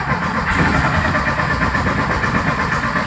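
A 1973 VW engine left thirty years in a shipping container cranks on its first start attempt. It makes a loud, continuous churning mechanical drone with a steady pulsing rhythm.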